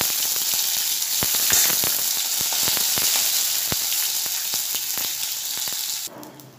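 Crushed ginger fries with spices for a pumpkin-shoot and pea dal, a continuous close sizzle broken by sharp ticks and crackles that cut off near the end, with no talking.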